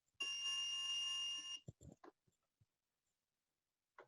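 A piezo buzzer wired into an Arduino circuit alongside an LED sounds a loud, steady electronic tone for over a second, then cuts off, followed by a few handling clicks and near silence.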